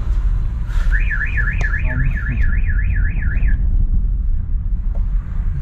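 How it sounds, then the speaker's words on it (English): A car alarm goes off outdoors near Petra, Jordan, sounding a steady rising-and-falling warble for about three seconds before it stops, over a constant low traffic rumble. "let's just try and get out of here while the car alarm goes off"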